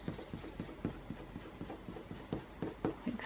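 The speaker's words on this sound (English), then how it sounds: "I'm going to now erase any oddball bits of pencil that might be distracting me." Pencil marks being erased on paper, a rapid rhythmic rubbing and scratching in repeated short strokes, close and fairly quiet with no voices.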